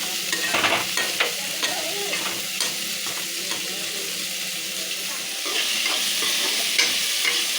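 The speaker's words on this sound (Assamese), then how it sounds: "অকণ লৰাই দিওঁ।" Sabudana and tomato are stirred in a frying pan, with a continuous loud sizzle and repeated scraping strokes of a spatula close up that grow hissier toward the end, with no talking.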